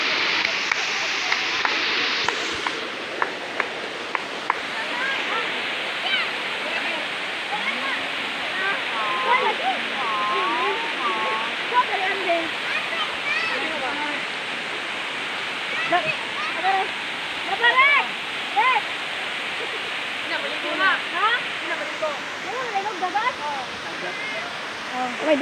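Umantad Falls in Candijay, Bohol, gives a loud, constant roar of falling water throughout, with people talking and children's voices mixed in over the rushing sound.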